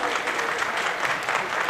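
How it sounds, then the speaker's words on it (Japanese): An arena crowd applauds a fighter at a RISE kickboxing event, sustained clapping at moderate volume with a voice faintly audible beneath it. "今一度盛大な拍手をお送りください"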